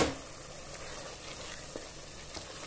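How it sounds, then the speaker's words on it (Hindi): Cluster beans fry with minced keema in a pan, giving a soft, steady sizzle with a few faint stirring clicks, quiet and close. "अब ये फलियां डाल के हम इसको मज़ीद भूनेंगे"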